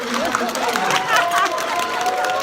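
An audience at a Life Financial Partners celebration event claps and cheers steadily, a dense continuous wash of applause mixed with crowd noise and voices.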